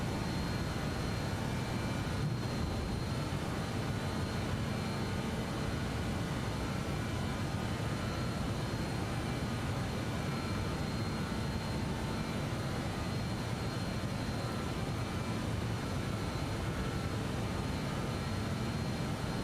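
A JustFlight BAe 146-300 airliner climbing out after takeoff in Microsoft Flight Simulator, its engines a steady, even roar with a broad rushing hiss that holds unchanged throughout, with no voices.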